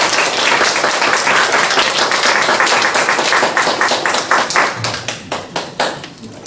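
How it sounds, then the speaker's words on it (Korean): Audience at a library humanities lecture applauding to welcome a lecturer, loud dense clapping that thins into a few scattered, distinct claps before fading. "모두 큰 박수로 모셔보겠습니다."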